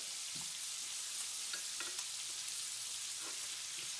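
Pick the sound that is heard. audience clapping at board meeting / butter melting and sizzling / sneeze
butter melting and sizzling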